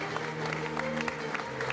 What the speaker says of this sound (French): Bien sûr qu'on applaudit là un peu plus fort.